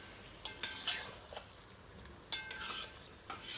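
Yogurt being fried with korma ingredients in a pan over high heat gives a soft sizzle, with several distinct scraping stirs and clinks of a utensil against the pan, and no talk.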